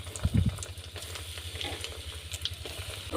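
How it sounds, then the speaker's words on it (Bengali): Boiled-egg balls frying in hot oil, a faint bubbling sizzle with a few soft thumps and clinks of a utensil near the start, no voices. "এই বাকিগুলো ভেজে নেব"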